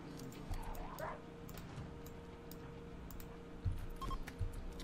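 Dog barking and whimpering during a RimWorld melee fight, quiet yips and whines over a steady low game hum, with a slightly louder burst near the end.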